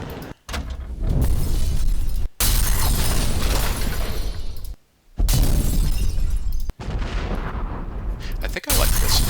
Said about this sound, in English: let's take a look at some film Foley, maybe an explosion